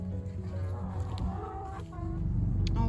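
Chickens clucking at the coop, close and continuous, with overlapping throaty clucks and calls from several birds.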